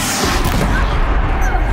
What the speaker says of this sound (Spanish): ¡Qué buena explosión!